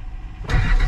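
An old Ford truck with a 7.3 IDI diesel, idle since October, cranks over, then the engine suddenly catches and fires, jumping into a loud, rough, close rumble for the final half second.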